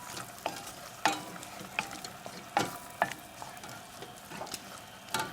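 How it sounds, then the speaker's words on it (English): Chocolate stirred into a hot pan of anchovy pasta sauce, a spoon scraping and clacking against the pan in irregular sharp strokes over a soft, steady sizzle, close and alone. "the chocolate, and add it right into the pan"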